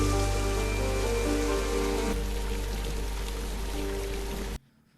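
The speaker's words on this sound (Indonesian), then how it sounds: "Namun beberapa saat cuaca berubah dan hujan mulai datang" Steady rain pours onto surfaces in a dense, even hiss that fills the scene, then cuts off abruptly near the end.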